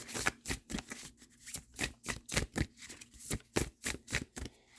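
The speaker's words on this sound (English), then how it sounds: "Let me pull one more card" Playing cards slide and riffle rapidly in a dense, rhythmic run of crisp close-up flicks, a card drawn from a freshly shuffled deck, with no voice.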